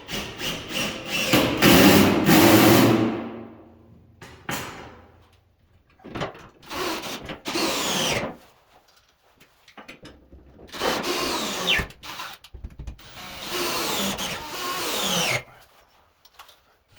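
Power tool fastening number 6 bolts through storage rack brackets into a garage ceiling, heard as several separate bursts of whirring and grinding with short pauses between them, close and fairly loud.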